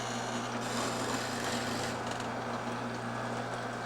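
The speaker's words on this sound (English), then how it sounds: "We're ready to drill that first hole." A steady mechanical whir with a low motor hum and a rasping grind as a drill press bores into wood, continuous and fairly close.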